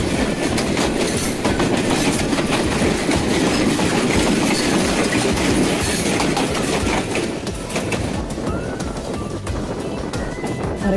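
The Ekota Express runs through Bangladesh and crosses another train, giving a loud, close, continuous rumble with rhythmic wheel clatter and a brief squeal of wheels.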